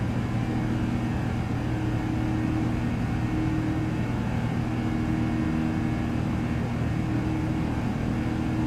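Airbus A330-900 jet engines during climb in X-Plane 12, a steady, heavy, droning hum that holds constant without pause.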